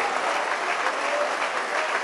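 A church congregation applauds loudly and steadily, a dense wash of many hands clapping without pause, close and full throughout.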